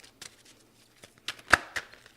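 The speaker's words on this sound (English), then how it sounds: "I think I'm going to shuffle this one" A deck of tarot cards is shuffled by hand in a quiet room, a few soft riffles and flicks building to one sharp snap of cards, with no talking.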